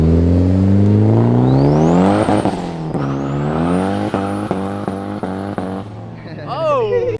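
A car engine revs loudly and continuously, its pitch climbing and dipping through repeated surges, then shifting abruptly near the end.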